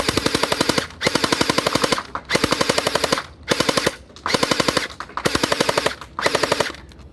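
Lehui Kriss Vector V1 submachine gun gel blaster firing in rapid full-auto bursts, a loud mechanical rattle of fast clicks broken into about six bursts with short pauses between, no talking.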